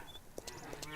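Cows on a farm in the video game Farmer's Dynasty give short, low lowing calls, a couple of brief moos over a steady game background hum and faint clicks, with no talk.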